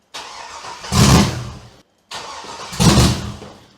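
Ford F100 on a budget chassis swap, running without catalytic converters, cranks and catches twice in a row, each start surging up loudly before fading and dying out, close by with a short silence between attempts.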